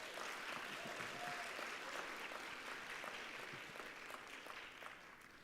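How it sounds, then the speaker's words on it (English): Audience at a Model United Nations conference applauds board members, a steady, dense round of clapping filling the hall from start to finish and easing slightly toward the end. "Please give them one more well-deserved round of applause."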